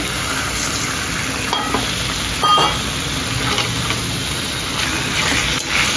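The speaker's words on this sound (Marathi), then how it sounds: "कांदा मिरची आलं लसूण चांगलं भाजून झालं, त्याच्यामध्ये आता आपण आपलं चिकन ॲड करूया" Marinated chicken tipped into a pan of well-fried onion, green chili, ginger and garlic for a black soy sauce chicken starter, giving a steady close sizzle with a few soft stirring scrapes, no voices.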